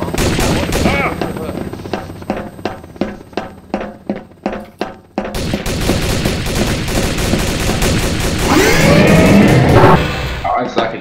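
Video game gunfire with rapid bursts of sharp shots in quick succession, then a dense, loud stretch of continuous firing and explosions, close and intense, with no voice on top.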